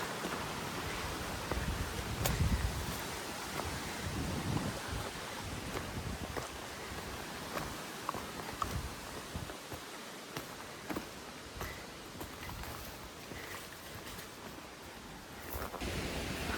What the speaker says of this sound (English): It's very windy today, so there's waves, whitecaps, whatever you want to call them.